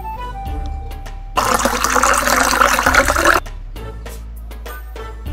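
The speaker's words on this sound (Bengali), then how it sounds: "তেল ঢেলে দিব" Cooking oil is poured into a cake batter in one steady, splashy stream lasting about two seconds, close and fairly loud over a low background hum.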